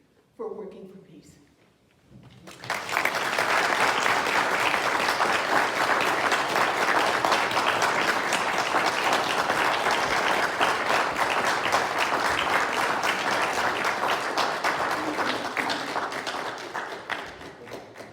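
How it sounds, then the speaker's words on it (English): An audience at an annual peace gathering breaks into loud, sustained applause welcoming a speaker, with dense clapping filling the room for about fifteen seconds after a brief spoken lead-in. "let our enthusiastic applause say"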